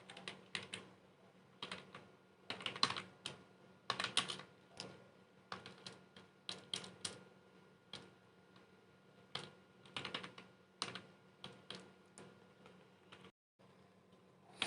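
Computer keyboard typing in short bursts of quick, crisp key clicks separated by pauses, close and fairly quiet, with no voices.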